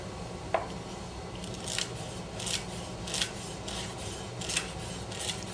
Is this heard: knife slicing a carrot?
yes